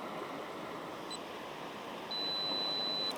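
Camera self-timer beeping during a landscape shoot: a short pair of faint, high-pitched beeps, then a long steady tone over soft background water and outdoor ambience.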